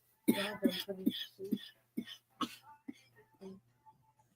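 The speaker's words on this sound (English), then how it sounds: "usually I just sit here and keep coughing" A run of harsh, close coughs in uneven bursts, some strained and throaty, tapering into quieter, scattered hacks and breaths.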